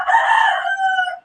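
A rooster crows once in a single drawn-out call, fairly close and loud, with a strained, wavering tone that fades off at the end in a noisy neighborhood beside a road.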